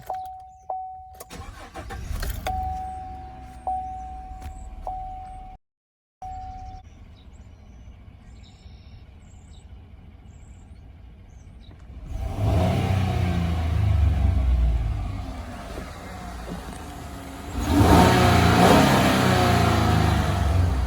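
A GMC Sierra pickup with a V6 engine and about 3,000 miles on it starts up after a few short cranks, settles into idle, then revs loudly twice, close and clear.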